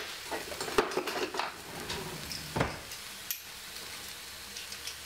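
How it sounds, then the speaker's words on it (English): Knife tapping and clattering on cookware as vegetables for a meat-free stir-fry are chopped straight into the pan, a run of sharp, irregular close knocks with a few louder hits and quiet pauses, no talking. "just chop it straight inside of it like that"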